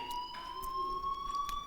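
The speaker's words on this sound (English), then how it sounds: "Hey, do you hear that fire alarm?" A steady electronic fire alarm tone sounds continuously in Life is Strange, a sustained shrill pitch over a faint indoor background, with no voices.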